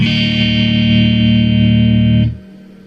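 A loud, sustained electric guitar chord played straight into an amp rings out with a little reverb, then cuts off abruptly, leaving a faint tail.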